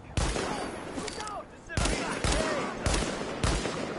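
Sniper rifle shots ring out in the video game The Division: several sharp, loud reports spaced roughly half a second apart, with players talking over the gunfire.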